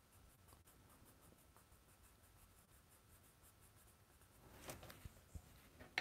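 A white pencil colouring on small Post-it paper for a pop-art drawing, giving a faint, steady scratchy scribble that grows a little louder and choppier toward the end, with no talking.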